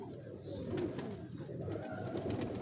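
Soft, low cooing from a Ferozpuri pigeon, a steady murmuring coo close by against a quiet, slightly noisy background.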